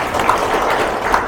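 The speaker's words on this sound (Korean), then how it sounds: "두 분 총재님께 박수 부탁드리겠습니다" An audience claps for two presidents at an association's presidential inauguration and handover ceremony, a brief, dense, steady burst of applause filling the room.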